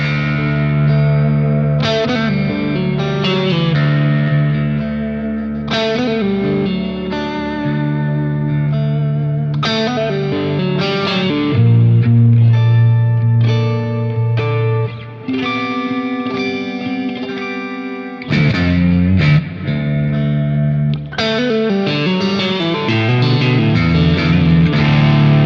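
Electric guitar through a B3 Phoenix in pickup position 4 with a quack tone, effected and distorted, plays a busy, sustained riff with chords and single notes, loud and continuous with brief pauses.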